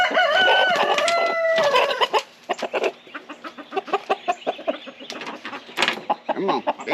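American Breese chickens, a loud close rooster crow first, then a run of rapid clucking and short calls from the flock.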